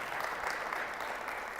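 A church audience applauds, a brief burst of dense, even clapping that sounds somewhat distant and soft.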